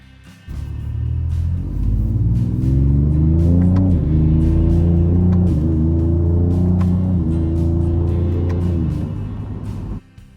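A Ford Ranger Raptor's 3-litre engine revs loud and close, climbing in pitch through several quick upshifts, with a steady deep rumble and no speech throughout.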